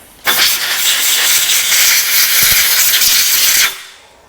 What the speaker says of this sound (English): I'm gonna blow this filter out backwards because I don't have a spare one